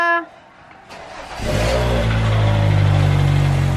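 A car engine starts and settles into a steady, close, loud running rumble, with a brief whirring start before the idle builds and holds.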